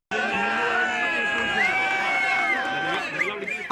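A packed stadium crowd at a QIFF Super Cup football tournament match in Doha roars and cheers continuously, with shouts and whoops rising out of a dense, sustained wall of voices.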